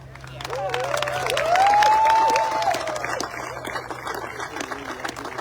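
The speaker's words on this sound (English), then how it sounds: "So I want your biggest round of applause for yourselves." At a groundbreaking ceremony, the founding owners in the crowd applaud themselves, with scattered clapping, murmuring voices and a rising, falling whoop of cheering that swells midway then eases back.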